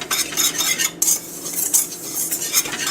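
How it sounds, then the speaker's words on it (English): Celery seed, dry mustard and other dry ingredients being whisked together in a bowl for old-fashioned mustard pickles: quick, continuous scraping and clinking of the whisk, close and steady, with no voices. "we have to whisk all the dry ingredients together"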